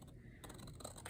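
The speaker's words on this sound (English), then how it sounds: "I take my scissors, because I can use this, the shorter piece, as a guide, and I should be able to cut straight" Scissors slicing through a piece of album-making paper along a straight guide edge, a brief quiet scraping snip lasting about a second.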